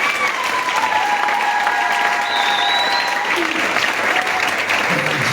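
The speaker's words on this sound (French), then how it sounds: "Acclamez pour le frère" A church congregation applauds a brother at a service consecrating children and presenting officiants, giving dense, sustained clapping throughout while a voice talks over it.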